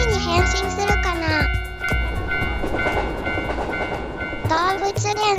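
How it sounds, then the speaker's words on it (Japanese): An animated cartoon train rumbles past close by with clattering wheels and a loud, sustained horn-like tone at the start and end. "もう一本電車が来るよ。"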